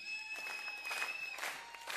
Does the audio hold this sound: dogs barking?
no